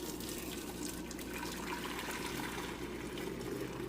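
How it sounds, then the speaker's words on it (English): Spaghetti cooking water pours from a big pot through a strainer, making a soft continuous rushing and splashing that stays steady and fairly faint throughout. "I'm gonna just pour the noodle water through here to strain it out"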